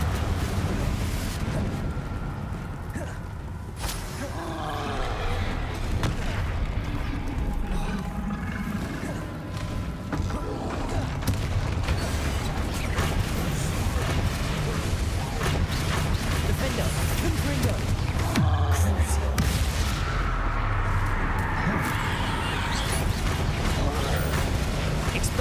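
Confringo and Expelliarmus spell blasts in Hogwarts Legacy, a dense run of crackling magical bursts and booming impacts within a continuous loud combat din, with creaking, mechanical clatter layered on top.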